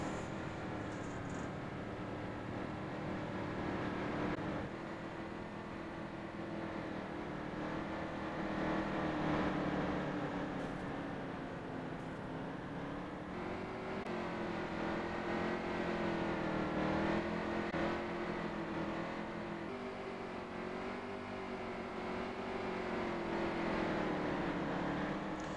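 Race trucks in the EMC Truck Series running a lap at Iowa Speedway, a steady loud engine drone with rising and falling pitch as the pack rolls around the oval, continuous throughout with no pauses.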